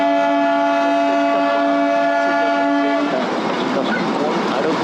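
The Darjeeling Himalayan toy train on the Darjeeling to Kurseong run sounds a loud, sustained horn for about three seconds, then gives way to a close, dense rumble of the moving carriages.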